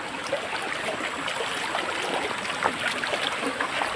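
Steady rushing of stream water flowing down from above near Morzot waterfall, Poladpur, a continuous broadband wash with no voices, fairly close and even in level throughout.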